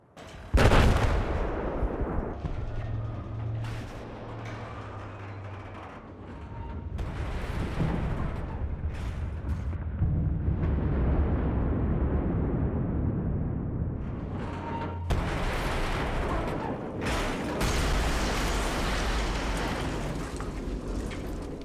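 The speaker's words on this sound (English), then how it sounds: "I'm going to detonate it here with some C4." C4 detonation bringing down a radio telescope in Battlefield 4, with a sharp blast followed by long rolling rumbles, crashing debris and scattered gunfire, loud and sustained throughout.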